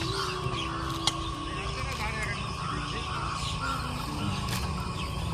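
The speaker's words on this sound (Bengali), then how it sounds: "কি সুন্দর পাখিগুলো যাচ্ছে" Crows fly over farm fields and give a few scattered, fairly distant caws above a steady outdoor hum, while someone talks.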